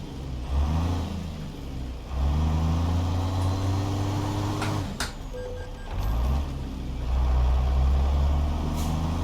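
Freightliner FLC log truck in American Truck Simulator with ProMods Canada, its diesel engine droning low and steady, dropping off around mid-clip with mechanical clunks before idling and picking back up.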